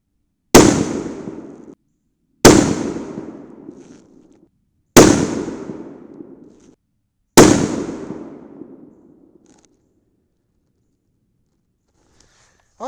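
Four evenly spaced .308 Winchester rifle shots from a Tikka firing 110-grain Hornady Z-Max handloads with Reloder 7, each a sharp loud crack with a fading tail, then quiet.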